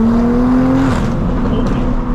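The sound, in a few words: 700HP Toyota Supra on E85 accelerating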